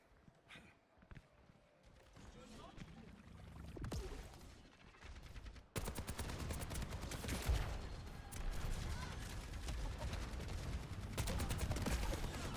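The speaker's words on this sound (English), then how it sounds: "Nice shots here from Lettuce" Gunfire in the Overwatch 2 Flashpoint mode of a college esports playoff match, heard as rapid bursts of shots and game effects that grow denser and louder partway through, with a continuous busy game soundscape.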